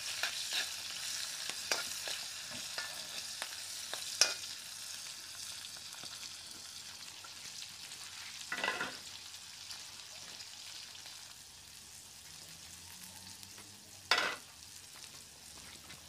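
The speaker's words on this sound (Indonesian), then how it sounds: "bawang, lada, dan ikan masin. Kita tumis" Onion, chili and salted fish frying in a pan, a soft continuous sizzle with occasional spatula scrapes and stirring bursts, fairly quiet and close, no talking.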